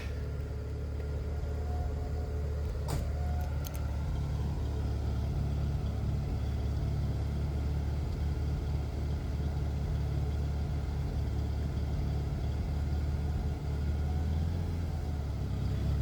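A 1983 Porsche 944 with newly worked brakes being driven around a parking lot, a steady low engine drone and road rumble throughout, with a brief metallic click early on and no talk.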